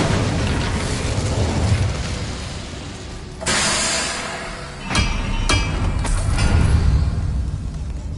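Fire spell cast in Hogwarts Legacy, with sharp whooshing bursts of flame and impacts over a rumbling game backdrop, one strong blast followed by several quicker hits.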